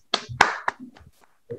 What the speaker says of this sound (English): Okay, guys, let us clap.